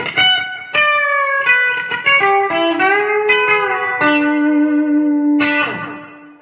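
A clean electric guitar plays a bright, twangy lick of plucked notes and quick bends, some ringing out, with no talking.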